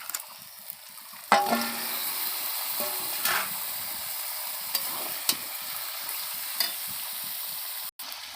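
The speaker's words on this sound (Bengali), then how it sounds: "আমি চিকেনটা দিয়ে দেবো" Chicken pieces dropped into a hot pan with turmeric, salt and a splash of water, giving a sudden loud sizzle that settles into steady frying hiss, with occasional spoon scrapes and clinks.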